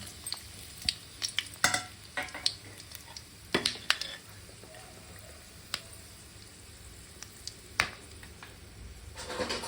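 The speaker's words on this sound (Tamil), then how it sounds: "அதில் நம்ம ஆயில் ஆட் பண்ணிக்கலாம் சூடேறிடுச்சு அதில் நம்ம ஸ்பைசஸ் போட்டுக்கலாம்" Spices frying in hot oil in a pan for tomato rice, giving a quiet, continuous low sizzle broken by occasional sharp crackles and utensil clicks; no talking.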